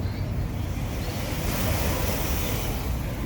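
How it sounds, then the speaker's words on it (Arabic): Sea waves wash steadily onto Alexandria beach in a continuous broad roar, close and loud, with a little wind noise and no talk. "نسمع سوا صوت الميه مع بعضينا"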